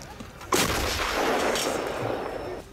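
A Russian 2S5 artillery gun fires a single loud shell blast that booms and then rolls off into a long, fading rumble, heard alone without voices.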